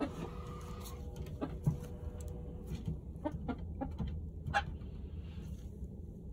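Chickens in a coop, checked by headlamp for mites, give soft scattered clucks and brief calls over a low steady hum, fairly close and with no talking.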